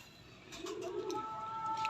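A female pigeon coos softly up close, a low rounded rolling call over quiet background with a faint steady tone.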